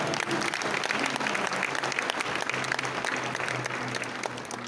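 Crowd at a family tribute gathering applauding two boys, a dense burst of clapping that fills the space and then slowly thins toward the end.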